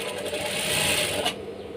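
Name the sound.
sewing machine stitching fabric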